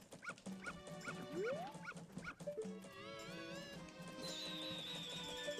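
Dog barks and yips from the Majora's Mask video game come as short, repeated, chirpy video-game bursts, mixed with whimpers and other game sound effects, moderately close and with no talking.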